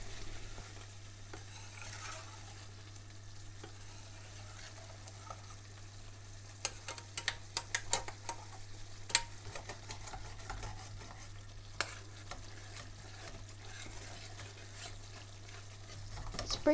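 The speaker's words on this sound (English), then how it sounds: "Tip over the vinegar and garam masala, stir through and remove the star anise and bay leaf." Vindaloo curry sizzling steadily in a pan after vinegar and garam masala go in, with a run of scraping stirs in the middle and quieter frying on either side, no voices.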